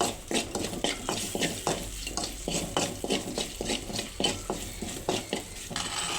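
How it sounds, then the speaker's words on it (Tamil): A spoon scrapes and clinks around a pan as potato fry with chili powder and turmeric is stirred and sautéed, giving rhythmic repeated scrapes over a soft sizzle, close by and with no talk. "அடுத்தது மஞ்சத்தூள் போட்டு நல்லா வதக்கி விட்டுக்கணும்."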